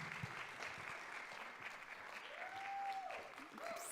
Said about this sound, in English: Let's give Toni Tipton-Martin a round of applause, please.